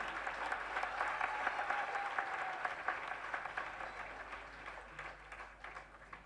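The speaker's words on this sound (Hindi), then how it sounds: "उनके लिए भी तालियां बजा दीजिए" An audience at an awards ceremony applauds performers from a children's act, a broad, fairly distant wash of clapping that stays steady and then thins slightly toward the end.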